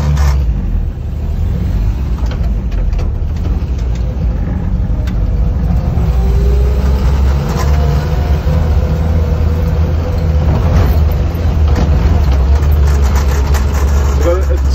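Land Rover Series 3 driving along with a steady, loud low engine drone and road rumble throughout, the old vehicle running with a bad vibration underneath.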